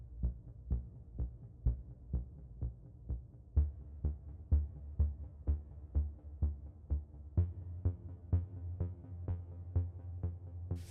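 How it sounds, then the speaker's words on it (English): A deep, pulsing synth bass repeats in a steady even rhythm, each note cut short and gated, looping on and on. "It's an arpeggiated or a gated type reverb sound."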